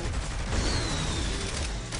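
Gunfire rattles in a Saints Row: The Third gameplay fight, a dense continuous volley of shots and booms at fairly loud level with no talk over it.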